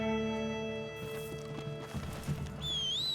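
Horse hooves clip-clop in Red Dead Redemption 2, a steady close trot with a brief whinny, set among game music and ambient sound.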